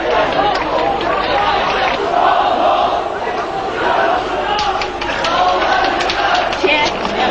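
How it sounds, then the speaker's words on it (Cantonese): Beijing citizens cheer students retreating from the square during the June Fourth 1989 crackdown, a loud, dense crowd roar of shouts and voices filling the street throughout. "由廣場撤退嘅學生沿途受到市民嘅歡呼"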